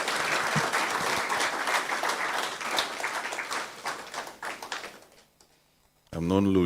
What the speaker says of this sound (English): You all need to clap for her again so I can get some time to regroup.